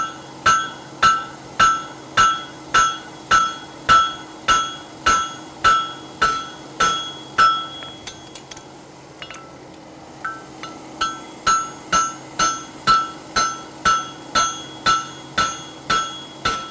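A farrier hammers a horseshoe over the anvil horn, sharp ringing blows in an even rhythm, close and loud, with a short pause midway before the strikes resume.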